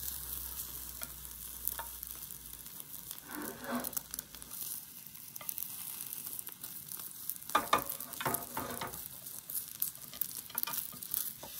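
Thin tamagoyaki egg mixture frying in a pan, with a steady quiet sizzle, soft patter and scraping as it is spread, and brief louder crackles partway through.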